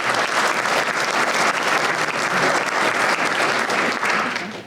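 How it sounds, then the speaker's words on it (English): A room of attendees at a mayors and managers breakfast forum claps loudly and continuously, a thick uniform wash of hands that stays level and begins tapering at the end. "that deserves a round of applause for MEVA"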